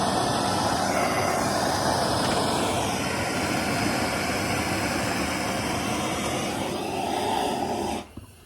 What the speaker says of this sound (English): I got my Mr. Heater. Turn this on.